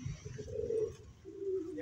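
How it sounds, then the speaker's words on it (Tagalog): Pigeons coo in low, rounded phrases, two soft calls in succession, close by with faint background noise. "Ang ating mga ibon."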